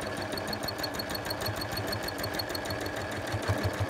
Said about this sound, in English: And here I'm going to stitch in the ditch